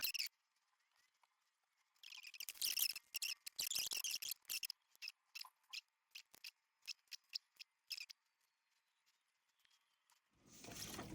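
A pen writes in a Hobonichi Cousin planner, giving soft, close scratching strokes in irregular bursts, at first dense and then shorter and more spaced, quiet with near silence between, and a rustle at the end.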